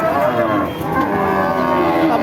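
A bull at a cattle market moos loudly and close by, one long, low drawn-out bellow lasting the whole moment.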